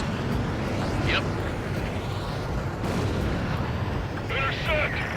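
Anti-aircraft guns pound beneath the constant roar of a jet battle in Ace Combat 7, dull distant booms and bursts with radio voices talking over the din.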